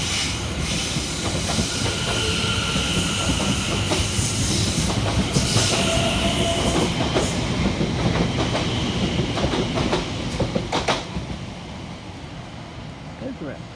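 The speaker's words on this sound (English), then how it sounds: "we see the departure of 710 114 and 710 115 working 1354 London Overground service from Cheshunt through to London Liverpool Street" Two coupled London Overground class 710 electric trains, 710 114 and 710 115, departing a station on a Cheshunt to Liverpool Street service, with loud continuous rolling rumble, wheel clatter and hiss that fade toward the end.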